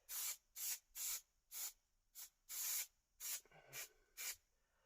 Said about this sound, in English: Spray it on both surfaces, give it a really good coating.